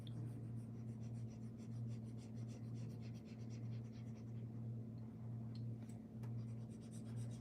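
A digital pen shades across a drawing tablet in continuous soft scratchy strokes, faint and close, rubbing back and forth over a steady low electrical hum.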